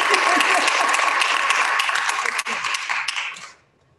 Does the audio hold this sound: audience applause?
yes